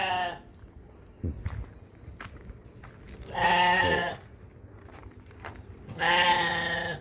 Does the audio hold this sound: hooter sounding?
no